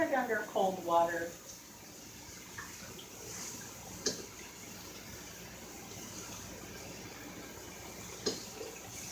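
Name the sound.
cooked pasta run under cold tap water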